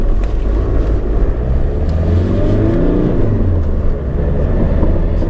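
A Mark 1 Ford Focus engine revving on the move, a loud, steady drone rising and falling with throttle throughout, with no talking over it.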